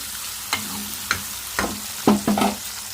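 Tomato and ivy gourd pieces frying in a pan, with a low steady sizzle broken by a few sharp stirring scrapes at irregular intervals, close and clear with no talking.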